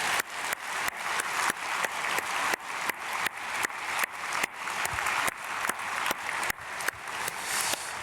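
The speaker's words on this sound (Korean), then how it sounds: "박수로 축복하겠습니다." A church congregation at a Korean dawn prayer service claps in unison, with sharp, evenly spaced beats falling about three times per second. The steady rhythmic clapping carries on for the full stretch without talk.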